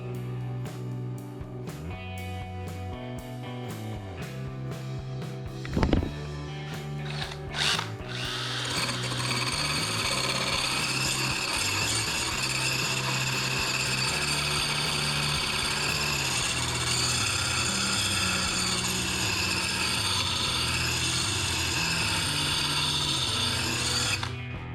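A power tool grinding an edge onto a lawn mower blade held steady, starting with a few short bursts, then running as a loud, steady high-pitched whine for most of the stretch, with no talking.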